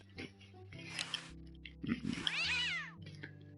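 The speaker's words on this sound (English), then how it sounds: "have a look at this cat. What a pretty pussy cat." A cat in the video game Day of the Tentacle Remastered meows in drawn-out, wavering calls, clear and close, over a low game-music drone with a few short sound effects.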